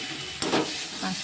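Onion frying in a pan with salt and turmeric gives a close, steady sizzle and hiss, with a brief stirring scrape partway through.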